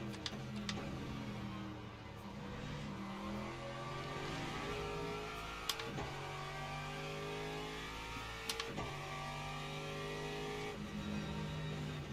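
Porsche and BMW GTE race cars at Imola or Monza in Le Mans Ultimate rev steadily with rising and falling engine tones as they shift through gears, with occasional sharp ticks, fairly quiet and without voices.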